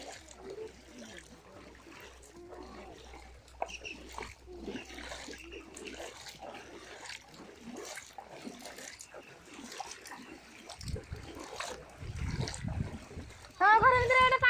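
Flood water inside a house makes intermittent sloshing and trickling beneath people talking, building toward heavier splashing near the end.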